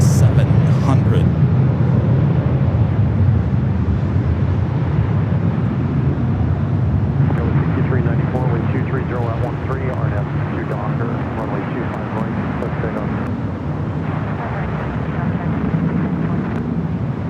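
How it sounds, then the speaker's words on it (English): A Southwest Airlines Boeing 737-700 at Los Angeles LAX airport produces a steady, loud, broadband jet roar that persists throughout, with rougher, gusty texture in the latter half. "Southwest flight heading to Sacramento, flight 3604 is"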